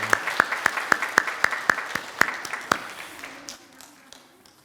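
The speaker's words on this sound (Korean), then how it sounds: "우리 박수로 다시 한번 축복해 주시기 바랍니다." Church congregation applauding during a Korean Sunday worship service, starting as a few distinct, evenly spaced claps that build into a fuller patter before fading out, with a faint voice underneath near the end.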